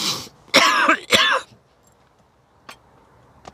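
A few harsh coughs or throat-clearing bursts close up, followed by quiet with a couple of faint clicks.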